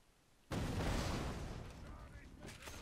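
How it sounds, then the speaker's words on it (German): A single loud, booming gunshot blast erupts from the shooter video game Borderlands 2 and trails off into a long, rumbling roar of noise that lingers to the end. "Die Schüsse sind also fucking laut."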